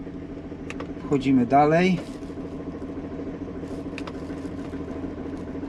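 BMW engine idling roughly just after starting, its uneven low running steady under the whole stretch, with a man's brief speech over it near the start.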